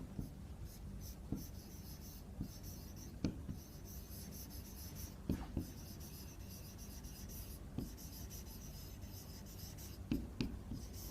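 Writing on a board during a physics lesson about incident rays: steady soft scratching strokes broken by occasional sharper taps, close by over a low background hum, with no speech.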